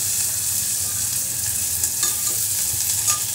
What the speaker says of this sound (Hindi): ये घी में ऑयल में थोड़ी ये भुनेगी ना तो उसकी खुशबू अच्छी आएगी, और ये तेज़पत्ता